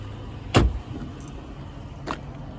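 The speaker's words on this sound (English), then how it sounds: "automatic trunk popper." Automatic trunk release on a 2009 Lincoln Town Car Signature Limited, a sharp thump of the latch popping followed by a second softer click, faint and close.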